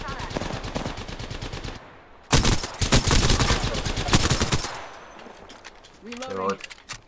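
Rapid automatic gunfire from a gun in the Xbox Series S game Apex Legends, loud and close, firing in two long bursts separated by a short pause, with a brief voice line heard near the end.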